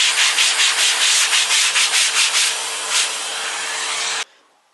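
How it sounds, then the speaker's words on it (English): MDF board being sanded, heard up close as loud rhythmic rasping strokes, about a dozen in a row, that settle into a steady scratchy hiss and then stop abruptly, leaving near silence. "wherever possible, do the sanding outside, because then you're less likely to inhale the dust"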